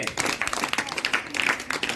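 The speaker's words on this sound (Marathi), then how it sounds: "टाळ्या सगळ्यांनी" Students in a school classroom clapping together, a brief burst of fairly close, brisk, uneven applause from a small group.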